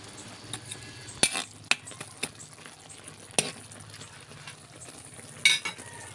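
Ginataang kangkong with ginger and lemongrass being stirred in a pot, a low simmering bubble under scattered utensil scrapes and a few sharp metallic clinks against the pot's side.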